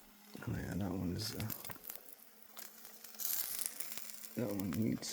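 Chicken legs sizzle steadily on a cooking surface, a continuous crackling hiss that runs beneath a man's speech at the start and end of the stretch.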